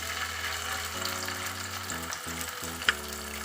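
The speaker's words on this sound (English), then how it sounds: "heat up the pan and I will put some braised onion in the pan" Leftover braised onions hit a hot pan with a steady, close sizzle of frying under a low background hum, with a few soft stirring bumps and one sharp clink near the end.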